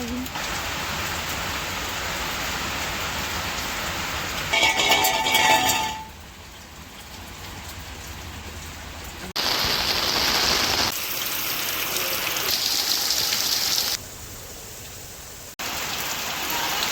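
Heavy rain falling during a storm, a dense steady roar of drops on surfaces that swells and drops in level in several abrupt sections, close and without voices.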